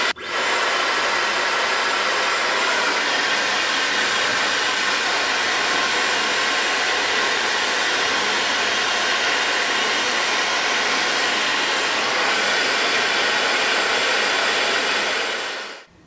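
A Dyson hair dryer blows continuously for about sixteen seconds at low heat with its nozzle fitted. The loud, steady airy whoosh stays close and unbroken, then cuts off at the end.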